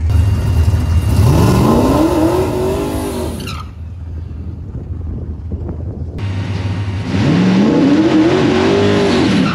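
A Mustang fitted with a new 88mm Precision turbo revs hard through first gear, loud and close with a climbing engine note, then lifts off into a brief lull before the engine roars and climbs again.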